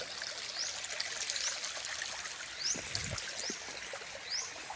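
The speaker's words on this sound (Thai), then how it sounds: "นี่คือเป็นภาพน้ำไหลอยู่บริเวณห้วยอ่าง บ้านนาอ่างตำบลนาตาล อำเภอเต่างอยได้นี่" Water flows over rocks in the Huay Ang stream at Ban Na Ang, Thailand, a continuous outdoor trickle and babble with faint bird chirps above it.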